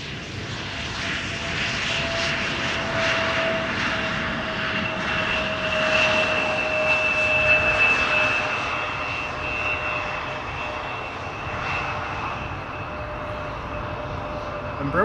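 An Embraer 175 airliner at Amsterdam Schiphol Airport roars with a loud, steady engine drone and a sustained high whine, heard from the airport side.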